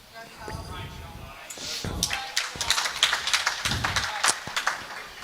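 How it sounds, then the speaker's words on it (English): Spectators at a lawn bowls masters sides finals day clap in scattered, uneven bursts, close and moderately loud, with someone talking over the applause. "You'll hear a lot of clapping."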